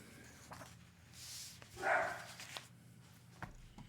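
Toby the dog gives a single soft, fairly distant bark or yip amid quiet room noise, with a few faint clicks around it.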